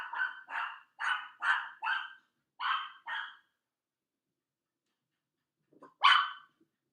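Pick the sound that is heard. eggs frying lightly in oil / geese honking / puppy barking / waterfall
puppy barking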